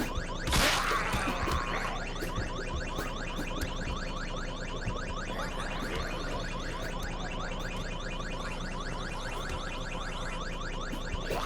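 A car alarm in the video game Vein, set off after hotwiring a vehicle, blares loud and continuous with a rapid repeating warble, beginning with a sharp crash-like burst.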